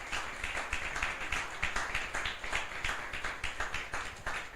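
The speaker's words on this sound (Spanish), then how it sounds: "Denle un aplauso al Señor" Congregation clapping for the Lord during a church service, rhythmic dense handclaps in a steady beat, fairly close and continuous with no voices over them.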